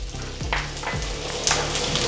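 Sliced onion with garlic sizzles in a pan for an ivy gourd stir-fry, a steady close frying crackle broken by a few soft stirring scrapes, with no voices.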